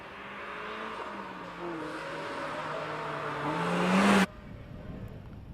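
An immaculate dark blue Mazda MX-5 race car launches off the line at the Prescott hill climb season opener, its engine climbing steadily in pitch through the gears, loud and close, before cutting off abruptly, leaving quiet background noise.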